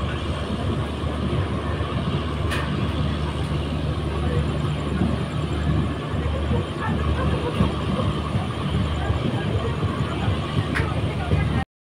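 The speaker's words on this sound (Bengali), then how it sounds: "পদাতিক এক্সপ্রেস এখন নিউ কোচবিহার স্টেশনে ঢুকছে।" Padatik Express pulling into New Cooch Behar station, a steady rumbling train roar with constant low-end drone and faint high squeals, continuous and fairly loud throughout.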